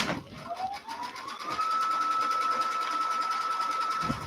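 A sewing machine stitches a fabric corner over tape, its motor whirring up in pitch and then holding a steady, rapid, close mechanical hum with a fine pulsing stitch rhythm.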